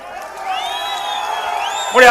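A large crowd cheers at an AIADMK political rally in Gingee, with a steady roar of voices, whoops and rising whistle-like cries, swelling louder in the final moment.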